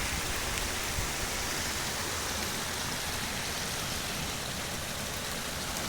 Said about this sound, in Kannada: ಹಳದಲ್ಲಿ ಹರ್ಕೊಂಡು ಹೋಗ್ತಾ ಇದೆ ನೀರು